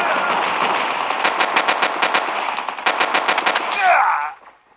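Rapid gunfire from a weapon in Call of Duty Mobile rattles out in two dense bursts of sharp, evenly spaced shots, loud and close, ending with a brief falling game sound effect before the clip goes quiet.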